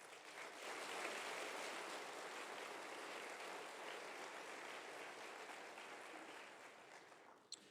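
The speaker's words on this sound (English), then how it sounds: "Let's give them applause" Applause from a city hall audience at Santa Monica's State of the City address, honoring the volunteers who counted the homeless; a steady, distant wash of clapping lasting several seconds with no talk on top, ending in one sharp knock.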